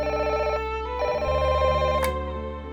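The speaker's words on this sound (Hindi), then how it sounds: "कियारा मैडम का फोन था।" A telephone bell rings in a steady electronic trill, two clear bursts with a short gap between them and a brief sharp click near the end, loud and close with no talk.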